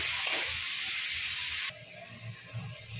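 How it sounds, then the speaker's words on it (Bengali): Chhana (cottage cheese) frying in ghee in a pan, a steady broadband sizzle that runs loud for about a second and a half, then drops to a quieter, softer hiss with faint stirring noises underneath. "এবার ঘি দিয়ে ভালো করে এটাকে হালকা করে ভেজে নেব"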